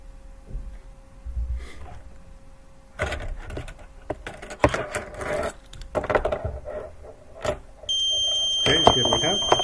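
Vehicle immobilizer alarm on a tracking platform, set off after the ignition is blocked, starts near the end as a loud steady electronic tone following handling noises and talk.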